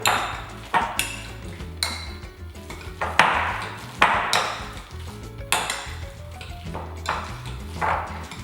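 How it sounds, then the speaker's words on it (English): A potato masher thumps repeatedly into peeled bananas in a bowl, giving a run of soft, wet squelches and metallic knocks against the bowl at an uneven, steady pace, close and moderately loud. "I just find a potato masher makes quick and easy work out of them"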